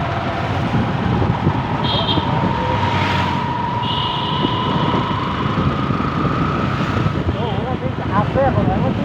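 Vehicles run along an open, uncongested road with a steady traffic rumble and passing engine noise, a couple of short horn toots breaking through, while people talk nearby.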